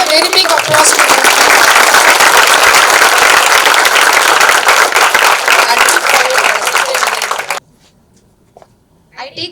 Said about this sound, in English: You can give a very big applause to him.